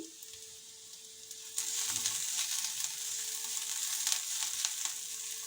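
Chopped garlic and ginger shallow frying in a pan, a soft sizzle that jumps louder partway through and then holds steady, close and without talk.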